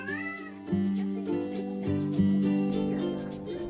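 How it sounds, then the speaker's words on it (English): A tiny kitten meows several times, clear and close, over steady background music. "A tiny kitten who just discovered its reflection."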